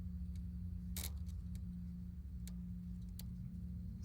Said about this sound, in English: Molten Freddy has some popping and clicks.